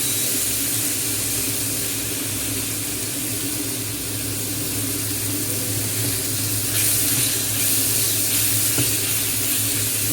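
Onions, dried red chillies and turmeric sauté in a pan for Chettinad chicken curry, producing a continuous even sizzling hiss close by, with a few faint stirring scrapes and no speech.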